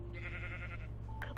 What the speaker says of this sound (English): Let's go for the sheep though.